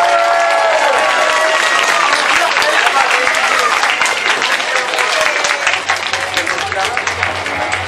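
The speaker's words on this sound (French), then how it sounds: "On applaudit bien fort," Loud crowd applause at a cosplay contest during a convention, many hands clapping densely with some cheering and a few voices, slowly thinning toward the end.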